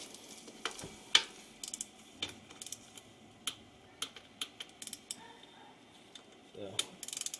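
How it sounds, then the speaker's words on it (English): A wrench torques down a bolt on a Honda Rancher 350 ATV, giving a string of faint, close ratcheting clicks and metallic taps spaced irregularly in a quiet space. "we'll see if we can torque this one down"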